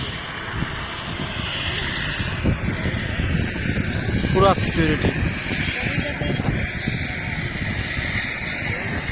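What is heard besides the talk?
patrol helicopter flying overhead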